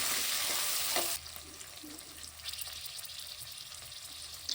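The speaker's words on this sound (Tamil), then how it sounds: "பச்சை மிளகாவையும், வெங்காயத்தையும் நம்ம இதில போட்டு நல்லா நம்ம ஃப்ரை பண்ணணும்" Green chillies and onions sizzling in an oil-filled pan while cooking mushroom biryani, a loud hiss for the first second that drops to a steady, quieter crackle and bubble.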